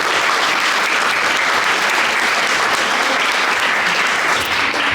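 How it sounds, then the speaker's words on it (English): Dense, steady audience applause fills a conference hall, many hands clapping loudly and evenly without pause. "Let's give you a round of applause."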